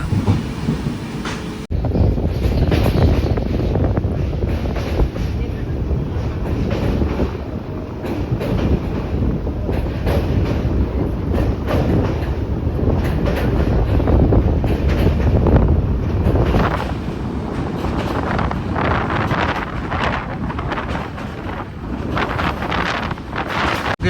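The Karwar Express rolls from Mangalore toward Yeshwantpur, a continuous loud rumble and rattle of railcars heard up close, with heavy wind buffeting throughout and no talk.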